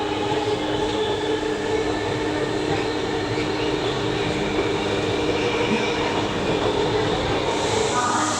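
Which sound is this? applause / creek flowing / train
train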